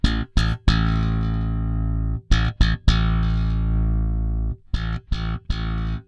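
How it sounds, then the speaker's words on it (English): Slapped and popped bass guitar notes played through a Darkglass compressor pedal, punchy percussive attacks followed by long, even sustained tones, in short phrases separated by brief gaps. "let's stick here with a slap tone and let's play around with that compressor"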